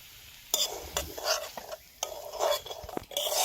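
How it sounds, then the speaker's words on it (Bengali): Semolina toasting in hot ghee in a kadai, stirred with a metal spoon that scrapes and clinks against the pan in sharp repeated strokes over a faint steady sizzle, close up with no talk. "আমরা সুজিকে হালকা করে একটু ভেজে নেব।"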